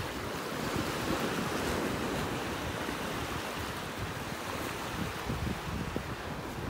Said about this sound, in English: By the water's edge. We are at low tide here.